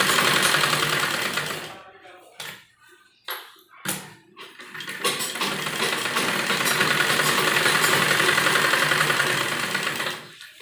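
A sewing machine runs in long steady bursts while stitching a double seam on an embroidered lined kurti, with a few short pauses and stops early on, close and fairly loud.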